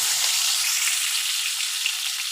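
Potatoes fry in hot oil as part of a Bengali katla kalia preparation, giving a steady, dense, close sizzle that runs evenly throughout with no voices.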